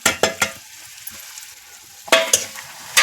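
Masala spices hit hot oil for shev bhaji, giving short bursts of sizzle and stirring scrapes separated by near silence, with a final burst at the end.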